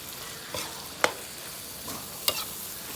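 Spicy squirrel stir-fried with leaves in a pan: a constant close sizzle broken by a few sharp spatula scrapes and clacks, no voices.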